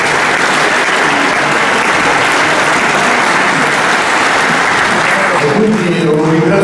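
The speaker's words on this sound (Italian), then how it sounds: "un bel applauso ai nostri ospiti sul palco" Loud, sustained applause from a crowd fills the whole stretch, dense and steady, with a voice starting to speak as the clapping fades near the end.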